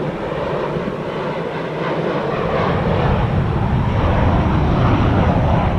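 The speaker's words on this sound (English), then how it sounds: "this loud ass airplane is about to pass" A loud airplane passes low overhead, its broad engine roar building steadily and staying strong throughout, with no talking.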